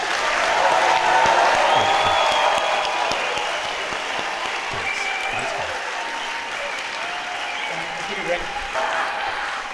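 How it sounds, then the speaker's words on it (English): A large audience gives a sustained round of applause for a guest at a talk event, dense clapping with some cheering that swells at first and then holds steady for nearly ten seconds, heard at a moderate distance. "One more round of applause for this incredible man."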